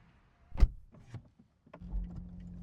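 A solid thump of a 2021 Lotus Evora GT door shutting nearby, followed by a muffled click and a low hum of the cabin settling.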